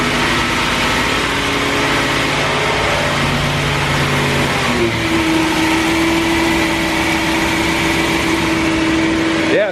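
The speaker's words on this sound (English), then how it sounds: "the exhaust note even through those massive trash cans still has a pretty good rumble to it" Big block V8 motorhome engine running on a dyno, its exhaust pushed through large mufflers: a steady, loud, continuous rumble that shifts in pitch partway through, then settles into a sustained drone.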